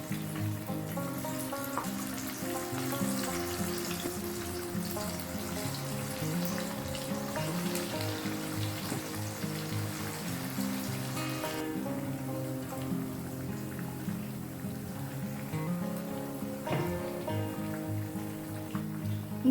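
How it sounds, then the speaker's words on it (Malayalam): Masala-marinated chicken pieces fry in hot oil with a constant dense hiss and crackle, like steady rain, close and even throughout, with a brief clatter partway through. "ഇനി നമുക്ക് ഇതിലേക്ക് നമ്മൾ മസാല പുരട്ടി വെച്ച് നമുക്ക് ചിക്കൻ ഇട്ട് കൊടുക്കാം"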